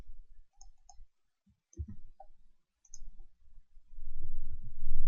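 Mouse clicks on a login button of a web page, a few short quiet clicks spread out, with soft handling noise and low rumble rising toward the end.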